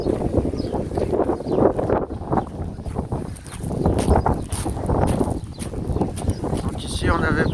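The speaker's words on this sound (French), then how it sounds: "Excuse pour le vent" Wind gusts across the microphone at the Luxor temple in Egypt, a constant loud buffeting roar that swells and dips, with a voice speaking in between.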